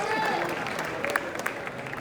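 Audience applause welcoming poet Nitin Chandanshive to the stage, a steady wash of clapping mixed with crowd murmur, even and sustained with a few sharper claps standing out.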